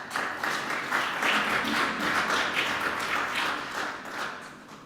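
A seated audience gives warm, steady applause at a talk about information pollution, the clapping dense and sustained at an even level for the whole stretch before it thins slightly at the end.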